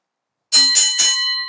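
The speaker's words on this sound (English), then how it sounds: "that is the sound of our bell as our first match gets underway here" Wrestling ring bell struck three times in quick succession to start a match at a live extreme wrestling event, loud and bright with a ringing metallic tone that sustains after the last hit.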